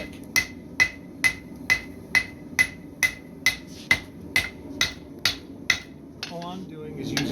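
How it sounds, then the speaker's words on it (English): A blacksmith strikes hot thick steel with a cross peen hammer to stretch it while forging a tomahawk, about fourteen evenly spaced ringing blows, close and loud, followed by a brief clatter. "All I'm doing is using this as a peen, cross peen, to ask the material to stretch."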